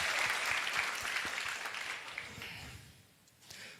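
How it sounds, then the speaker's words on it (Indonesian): Audience applause at an indoor seminar, a dense burst of clapping that fades toward the end, with a brief swell just before the close. "Siap, aplaus dulu."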